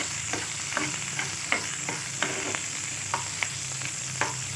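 Onions sautéing in a pan for a South Indian onion chutney, a steady sizzle and fry with regular scraping stirs of a spoon against the pan, close and clear with no voices.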